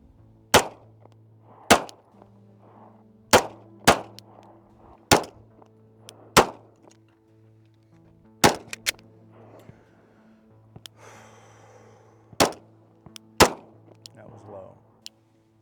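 Handgun shots fired at a 100-yard range: about a dozen sharp, loud cracks at uneven intervals, with quiet voices and rustling in between.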